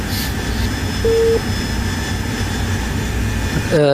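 Jet aircraft in the DCS World flight simulator during a close air support dogfight, a loud continuous engine roar with whining tones, steady throughout and ending with a short rising electronic cue.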